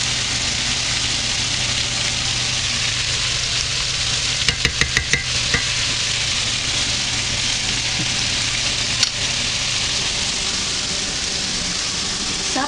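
Shrimp with olives and spices simmering in a pan on a low-carb keto dish, giving a steady soft sizzle and bubbling throughout, with a few brief clinks partway through.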